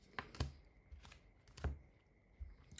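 Tarot cards being shuffled in a few quick riffling bursts, close by and fairly quiet, with soft handling noises between them.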